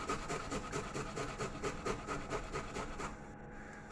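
About 25 grams of fresh ginger is rubbed against a grater for an orange and ginger posset, making quiet, rhythmic rasping strokes close by with no talking.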